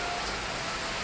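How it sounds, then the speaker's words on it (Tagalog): Dense, steady hiss of heavy rain falling nearby, a continuous wash of noise with no distinct drops or voices. "Lakas ng ulan, oh."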